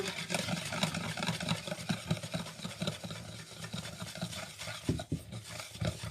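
Flour, sugar and baking powder being stirred into muffin batter, giving a steady scraping, swishing rhythm of a utensil against a bowl, close and fairly quiet, with no talking.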